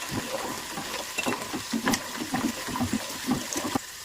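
Mustard seeds, green chillies and ginger fry in hot oil, a close, continuous sizzle with small bubbling pops and occasional stirring scrapes.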